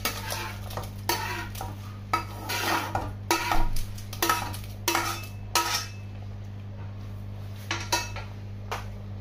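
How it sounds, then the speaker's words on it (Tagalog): A spoon stirs sautéed ingredients into a pot of mung bean stew, giving repeated close metallic scrapes and clinks against the pot at an irregular rhythm over a low steady hum, with faint sizzling between strokes. "haluin na natin yung ating sahog sa ating munggo"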